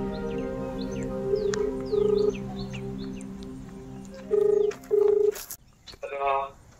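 A phone is being dialed to call someone: short, clear, steady-pitched tones sound in several separate bursts against a quiet outdoor background with birds chirping, and a voice speaks briefly near the end.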